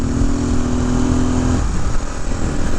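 1972 Honda XL250 single-cylinder four-stroke motorcycle cruising past a museum, a close, loud engine drone with a steady tone that shifts partway through, continuing under wind noise.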